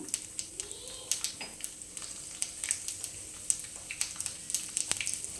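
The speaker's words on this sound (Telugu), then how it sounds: "ఆయిల్ బాగా వేడైందండి ఇప్పుడు పోపు దినుసులు వేసుకుందాం జీలకర్ర ఆవాలు పచ్చిపప్పు మినప్పప్పు వేసుకున్నాండి నేను" Cumin, mustard seeds and lentils fry in hot oil with a steady, light sizzle broken by frequent sharp pops and crackles, close up and moderately loud, with no talking.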